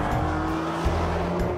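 An Infiniti G37 driven hard at speed, its engine holding a steady tonal drone with road and tire noise, loud and close throughout.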